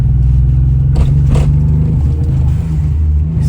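A Suzuki Alto Works CR22S engine with a misfire, running loud and close in a steady low drone, with a couple of uneven stumbles and sputters as it struggles to rev, no voices.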